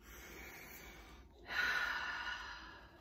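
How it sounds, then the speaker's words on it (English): A person sitting up tall takes a single deep, audible breath in through the nose, rising and swelling for about a second and a half close to the microphone. There is no talking. "let's take a deep breath in"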